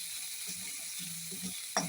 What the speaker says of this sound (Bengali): জিরে গুঁড়োটা দিয়েও সেই চিংড়ি মাছের সঙ্গে কষে নিলাম।